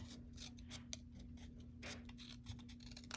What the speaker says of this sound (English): And I'm also going to cut this one in half.